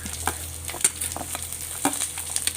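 Finely chopped ginger and onion sauté in a pan for an anchovy thoran, a soft low sizzle punctuated by a series of light spatula scrapes and taps.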